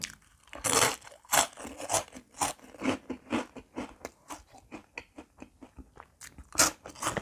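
Close, crisp crunching and chewing of Calbee tom yum shrimp rice crackers, a few sharp bites followed by a steady run of softer chewing crunches, with no talking.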